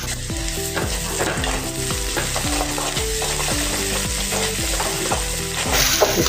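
Ginger garlic paste fries with chopped onions in a pan over high heat for a radish and pea curry, a steady loud sizzle with repeated stirring scrapes throughout and no talking.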